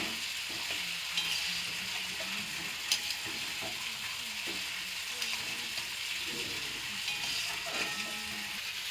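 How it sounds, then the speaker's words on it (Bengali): Vegetables with pumpkin fry and hiss in a pan while being stirred, a steady sizzle broken by soft scraping strokes and light clinks of the spoon against the pan. "দিয়ে আরও একবার ভালোভাবে সবজিগুলো নেড়ে চেড়ে নেব"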